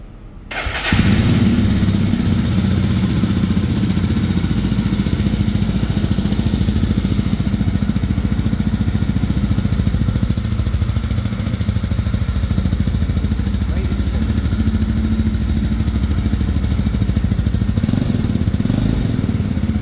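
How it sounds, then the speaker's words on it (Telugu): A 2024 Jawa Classic 350 motorcycle engine starts with the clutch held and then idles with a loud, steady, throbbing exhaust rumble that continues throughout. "దీని ఒకసారి మీకు ఎగ్జాస్ట్ సౌండ్ కూడా వినిపిస్తాను చూడండి. క్లచ్ పట్టుకొని ఆన్ చేయాలి."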